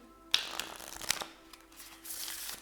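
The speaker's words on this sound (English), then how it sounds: "One more time. One more shuffle." A deck of tarot cards is shuffled close up, with a few crisp riffles and slaps, soft sliding between them, then a longer papery flutter near the end.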